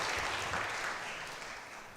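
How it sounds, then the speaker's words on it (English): Audience applause at a corporate governance career fair, a dense, steady wash of clapping from many hands that gradually fades over two seconds. "Let's have a really, really big round of applause for those remarks."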